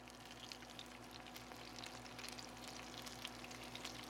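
Low carb mozzarella sticks in batter fry on an induction cooktop inside a truck, giving a steady, close crackling sizzle with a faint electrical hum beneath and no talking.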